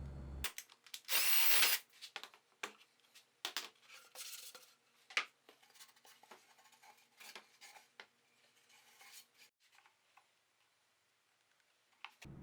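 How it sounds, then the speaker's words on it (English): A drill bores through a wooden shelf board for iron pipe fitting shelves. One brief, loud burst of drilling comes near the start, followed by scattered clicks and knocks that fade to near quiet. "then I flip it and I drill out the other side"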